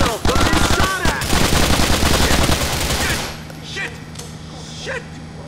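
Rapid automatic gunfire and shots ring out loud in GTA: The Ballad of Gay Tony, dense bursts for about three seconds, then quieter scattered sounds follow.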